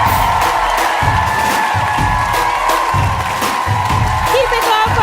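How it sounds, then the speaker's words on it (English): A live audience at a comedy podcast taping claps and cheers for the host, sustained applause with whoops rising over a dense crowd roar, near and loud throughout. "Clap it up for your wonderful host."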